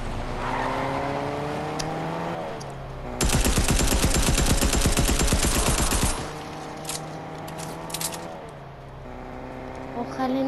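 A long burst of rapid automatic gunfire in a video game rattles for about three seconds, set against engine hum and game sounds, with voices talking around it.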